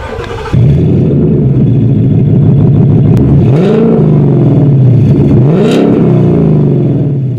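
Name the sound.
Mustang engine revving through X-pipe exhaust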